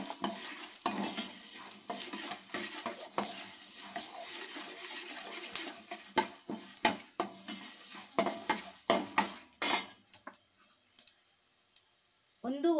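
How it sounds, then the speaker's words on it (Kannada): Coriander seeds dry roasting in a pan over a low flame, stirred constantly, giving close, dry rustling and scraping with light clicks against the pan that thin out into sparser taps near the end. "ಸ್ವಲ್ಪ ಕಡಿಮೆ ಉರಿನಲ್ಲೇ ಹುರ್ಕೊಳ್ಳಿ."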